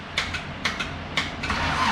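A turbocharged Honda D16 engine in an EF hatch cranks and tries to catch while over-fuelled, giving several sharp bursts and sputters over a steady low rumble, fairly close and moderately loud.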